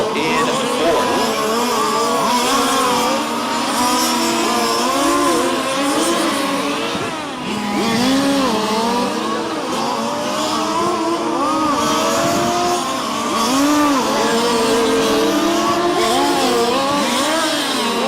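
Race cars circle a short track during a live-streamed race, engines droning and shifting pitch continuously as they accelerate and lift off the throttle, loud and sustained, with a commentator talking over them throughout.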